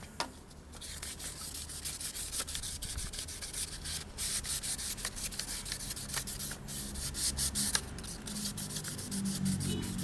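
Hand sanding of a headlight brow on a 2018 Toyota Fortuner SUV being dechromed, steady rapid back-and-forth rubbing strokes with a gritty rasp, close and continuous throughout.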